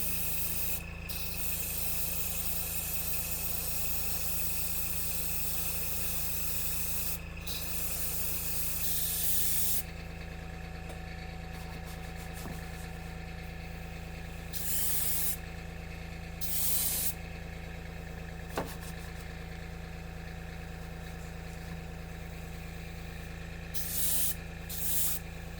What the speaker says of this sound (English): And it's spraying fine.